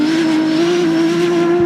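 A BMW 1 Series race car at the Goodwood Festival of Speed holds a loud, steady engine drone at near-constant pitch, close by, with no voices.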